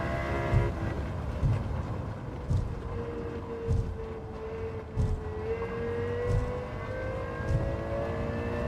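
Lexus LFA engine in Gran Turismo 7 racing, a steady high-pitched engine note rising slowly across the stretch with repeated low thumps, loud and close, no talk.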